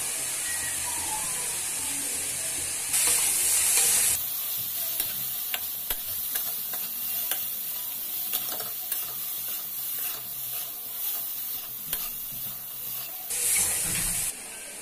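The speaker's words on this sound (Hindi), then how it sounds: "मसाला डालने के बाद अच्छे से चलाना है इसे" Spiced vegetable stuffing for spring rolls stirred in a hot pan, a steady sizzle with repeated scraping stirs and brief louder hissing bursts, close up and without talk.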